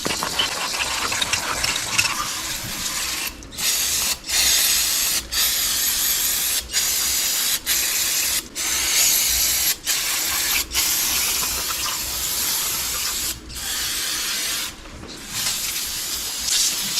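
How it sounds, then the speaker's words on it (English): Brake cleaner sprayed onto a 6.0 LS cylinder head in long, steady hissing bursts, close and loud, broken by short pauses between pulls of the trigger. "We'll hit it with some brake clean."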